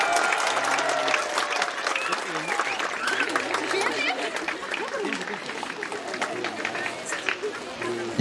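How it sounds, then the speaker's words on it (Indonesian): An audience at an Easter camp opening service applauds the department heads with sustained, moderately loud clapping that runs throughout, with faint voices underneath. "Mari tepuk tangan untuk bapak-bapak kepala dinas dulu."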